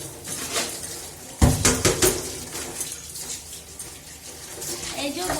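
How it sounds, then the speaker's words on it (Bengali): Baskets are washed under running water, with a steady splashing stream and clattering knocks of the baskets against a sink or pots, loudest in a burst of clunks midway. "ঝুড়িগুলো ধুয়ে নিই।"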